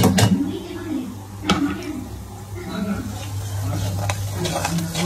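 Spices, salt, chili powder, coriander, cumin, fenugreek and tamarind pulp stirred together for a pickle, with scraping strokes and a soft knock near the start, under a continuous low hum and a voice speaking.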